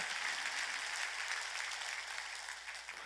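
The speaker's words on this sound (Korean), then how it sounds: "박수 쳐." Church congregation applauding during a pastor's sermon, a dense, steady wash of clapping from a large crowd that holds level throughout.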